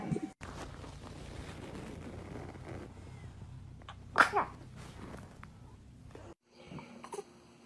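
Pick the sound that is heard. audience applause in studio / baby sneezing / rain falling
baby sneezing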